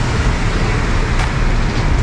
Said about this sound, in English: There's the hustle of the city happening right now.